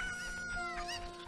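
Chicken clucking from the video game Zelda: Ocarina of Time, a short burst of several tonal clucks over steady game music and ambience, loud and close.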